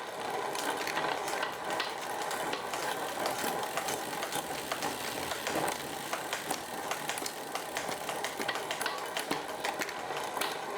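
The rear derailleur of a Scott Addict RC road bike shifts gears after its weak spring was given more pressure with a copper washer spacer. The drivetrain ticks and whirs continuously and closely while it spins, with no talking.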